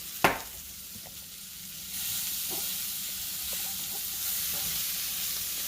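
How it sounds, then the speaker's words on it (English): Seasoned venison heart taco meat being stirred in a pan off the heat, a steady broadband sizzle with a sharp scrape near the start and soft clinks of the utensil, no voices. "add a little bit more seasoning to top it off and stir all that together"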